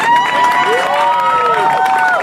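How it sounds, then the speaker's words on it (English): Outdoor crowd clapping and cheering at a Special Olympics fire truck pull, with voices shouting above the applause in a short burst. "Big round of applause to all our athletes who came."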